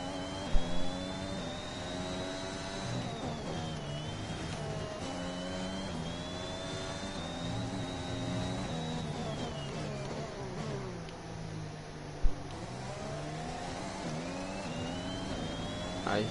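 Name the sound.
race cars in video game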